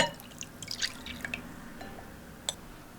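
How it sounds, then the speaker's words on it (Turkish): A cup of milk is poured into a bowl of beaten egg, giving a short close splash followed by a few light drips and trickles. "Bir su bardağı süt ilave ediyorum."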